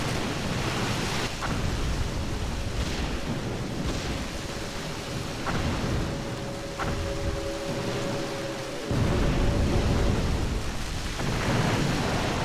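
Naval shell splashes and distant gunfire boom around a ship in a Jutland battle video game, heavy rolling rumbles over a constant roar of sea and wind, with a thin sustained tone in the middle.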